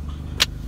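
A car idles and creeps in a grocery store parking lot, a steady low engine rumble with one brief sharp click or squeak partway through, no talking.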